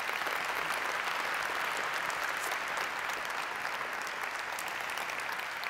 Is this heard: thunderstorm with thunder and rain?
no